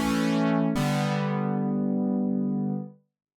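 A sustained Prophet-5 synthesizer chord with a brief re-strike partway through, rich and bright, holding steadily before cutting off cleanly near the end.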